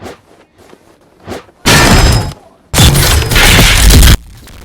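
Soft scattered whooshes build to two loud, sustained roaring blasts, like heavy explosions, each lasting about a second before cutting off, from a nuke-like attack in a video game.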